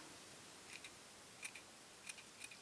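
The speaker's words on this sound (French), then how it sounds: "Je la coupe légèrement, je l'aplatis, puis je la coupe légèrement en arrondi." Scissors lightly trimming a small flattened paper punch-out into a rounded shape, a few faint, short, crisp snips spaced irregularly against quiet room hiss.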